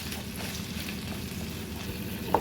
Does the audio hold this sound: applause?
no